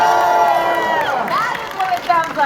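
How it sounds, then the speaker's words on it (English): A large convention crowd cheers and whoops in Hall H at San Diego Comic-Con 2024, a dense, loud roar of many voices with rising shouts that carries steadily through the moment. "Can I hear you guys cheer a little louder for that one?"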